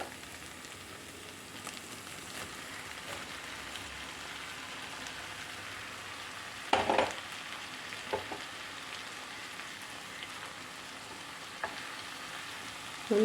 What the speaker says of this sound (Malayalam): ഇനി നമുക്ക് വേവിച്ച് വെച്ചിരിക്കുന്ന സോയ ചങ്ക്സ് ആഡ് ചെയ്യാം.